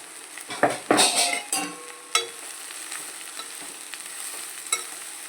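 Spinach buttermilk curry being stirred in a pan, with scraping spoon-on-metal strokes and a soft sizzle, loud at first, then quieter clinks over a steady low hiss.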